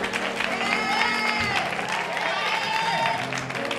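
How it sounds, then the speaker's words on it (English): Steady applause fills a church service, a congregation clapping with scattered shouts and whoops mixed in while a voice speaks over the continuous dense clapping. "Even the bus drivers clapping unto the Lord."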